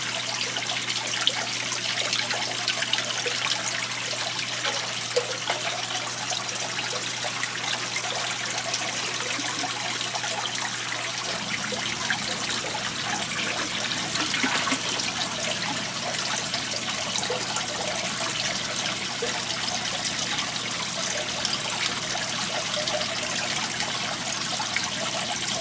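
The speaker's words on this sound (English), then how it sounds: "I've been running the water" A tap runs water straight from the ground in a steady, continuous hiss and trickle, close by, with a low mechanical hum underneath that shifts partway through.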